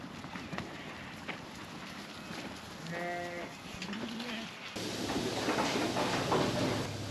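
Crossbred ewes bleat a few times at middle distance in a sheep yard before shearing, the calls rising over a steady outdoor rumble of wind and background noise.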